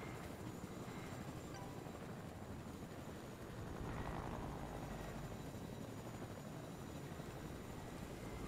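Helicopter rotor in an old video game, a steady, dense whirring drone that holds at even loudness throughout with no talk over it.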